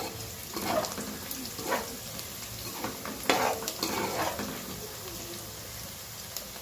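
Thinly sliced onions fry in oil for a chicken curry, a steady close sizzle broken by several louder bursts of stirring and scraping in the pan. No one speaks.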